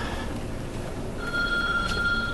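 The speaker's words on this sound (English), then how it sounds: "And as usual, I get my phone calls." A telephone rings with a sustained electronic tone that starts partway through and carries over a hallway background of low murmur, with no one speaking.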